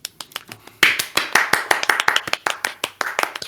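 A few people clap by hand in an irregular, loose rhythm, sharp close claps that are uneven in loudness, heard alone with no talking.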